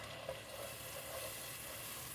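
Two tablespoons of butter melting over medium heat in a Circulon pot for gravy give off a steady, soft sizzle, a quiet continuous hiss with no pauses.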